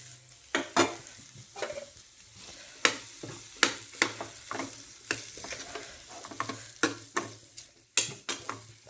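Potato pieces sizzle in a pan while a spoon scrapes and stirs them in sharp, irregular strokes, the clatter loud and close over a low, steady frying hiss.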